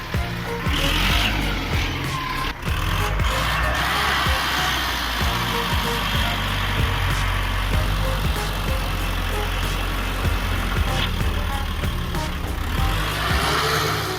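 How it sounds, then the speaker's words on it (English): A logging truck with a 4-cylinder turbocharged engine and 4x4 drive, stuck in deep mud with one side sinking into a water hole, rumbles steadily at a low, continuous drone throughout. "with a 4-cylinder turbocharged engine producing about 96-99 horsepower and 4x4 drive"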